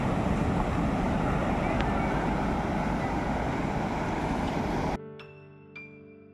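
Ocean waves roll onto the beach at Puri as a steady, loud wash of surf mixed with wind buffeting the microphone, cutting off abruptly near the end to a quieter interior with faint tones.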